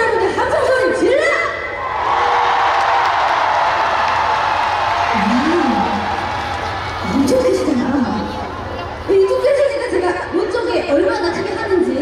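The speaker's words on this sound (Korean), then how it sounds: "우리 제 기준으로 좌측에 계신 팬 여러분들 함성 소리 질러!" Fans at a festival concert in Chungju cheer and shout together in a loud, sustained roar of massed voices, with a performer's amplified voice briefly heard between bursts of cheering.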